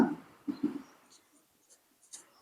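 A pen writing the formula for the area of a circle on paper, short scratchy strokes in bursts with soft pauses between, close and quiet.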